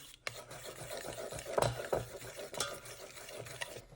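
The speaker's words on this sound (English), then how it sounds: "So you're just going to mix this around until it's evenly incorporated." Fried chicken wings being stirred through a garlic sauce in a bowl, wet sticky squelching and scraping strokes in an irregular rhythm, close and fairly quiet with no one speaking.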